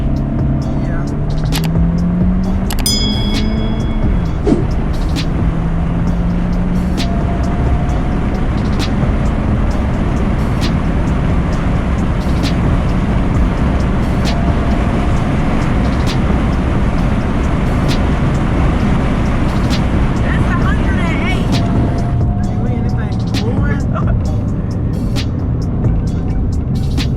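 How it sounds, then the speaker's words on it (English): A 10th-generation Honda Civic Si turbo engine accelerates from inside the cabin: a loud, steady roar with engine tones climbing early on, and voices faint in the background. "You gonna hear the turbo."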